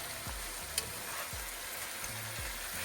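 Garlic, cherry tomatoes, onion and red and green peppers fry in a pan with a steady, quiet sizzle, broken by a few soft low thumps and one brief clink, no voices.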